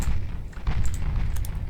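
Naval guns firing in the warship battle game Ultimate Admiral Dreadnoughts give a deep, rumbling boom that rolls on briefly, with no talk over it.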